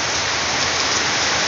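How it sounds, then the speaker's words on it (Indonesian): Heavy afternoon rain pours steadily in Lewoleba, Lembata, Indonesia, a dense, loud hiss of drops with no pauses. "Suasana hujan"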